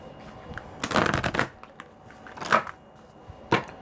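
A deck of oracle cards gets shuffled close by: one longer riffling burst, then two short snaps of cards, with quiet pauses between.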